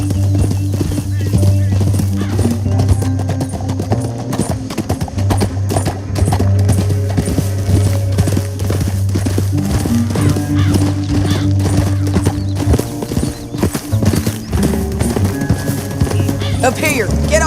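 Several horses gallop in a steady clip-clop rhythm over a continuous music score, with occasional voices mixed into the busy soundtrack, in the video game Red Dead Redemption 2.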